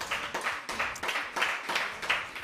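A small audience claps for the singer in a rhythmic, fairly sparse burst of roughly two claps per second, moderately close and unaccompanied by talk.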